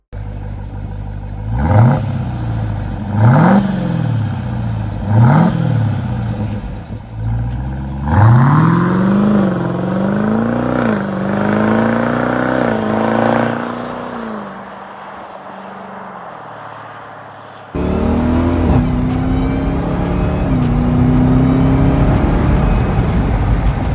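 A Jeep Trackhawk accelerates hard from rest to 60 mph, its engine note climbing in loud repeated surges through several gear shifts, then dropping away before a final sustained high-revving pull.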